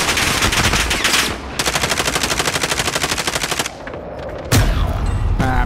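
Rapid automatic gunfire in Call of Duty: Modern Warfare, sustained bursts of close, loud shots rattling in a fast even rhythm, pausing briefly before another burst and a final heavy blast.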